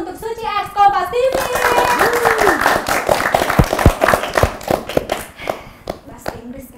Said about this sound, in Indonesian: Kita kasih tepuk tangan dulu untuk Suci X Kompas TV.